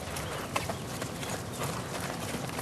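Close, steady cantering hoofbeats as a horse is ridden in Auburn, California, a rapid rhythmic clip-clop on soft ground with no talk over it.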